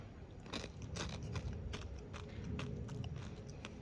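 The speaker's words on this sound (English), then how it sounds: "It just tastes like a salty crunch in your mouth." Close, crisp crunching as someone bites and chews dry, salty corn puffs from a cold-weather MRE, with repeated sharp crackles in a steady chewing rhythm in a quiet room.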